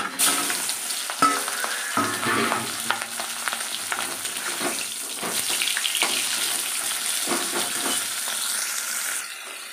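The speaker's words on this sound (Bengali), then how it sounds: "দেখো তেল গরম হয়ে গেছে, আর এই উচ্ছে ভাজা হয়ে গেছে।" Bitter gourd and shrimp frying in hot oil in a pan, a loud continuous sizzle with repeated spatula scrapes and clatters, close up and with no voices.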